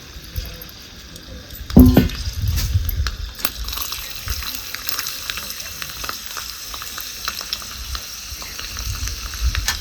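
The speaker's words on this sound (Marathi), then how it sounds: "ह्याच तेलात ना लसूण आपल्याला लालसर करून घ्यायचं आहे" Garlic cloves sizzle and fry in hot oil for a Marathi-style green tomato chutney tempering, a steady close crackle that jumps suddenly as the cloves drop in, with faint clinks and stirring throughout.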